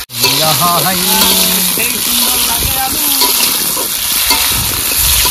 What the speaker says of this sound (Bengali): এবার আলু ভেজে নেবো মাংসের জন্য